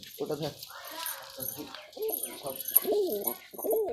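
Pigeons in an Andhra breed loft in Kolkata give low, rolling coos at close range, several in a row, with a voice talking over them.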